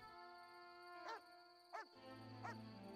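A dog in The Witcher video game gives three short barks or yips spaced about a second apart, over a steady tonal game soundtrack.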